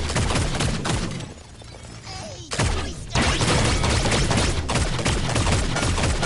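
Rapid bursts of video game gunfire, dense and loud, with a short lull partway through before heavy shooting resumes, and a faint voice now and then beneath it.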